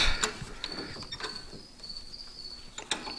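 Close-up metallic clicks and short ratcheting creaks of a ratchet wrench turning a bolt during a Pontiac GTO polyurethane body bushing installation, with a faint high whine lingering between the clicks.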